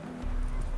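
Horse hooves clip-clop in The Witcher 3, a short burst of a few hoof strikes over a low ambient hum, close and moderately loud.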